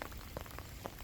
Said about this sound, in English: it's nice to get a little bit of rain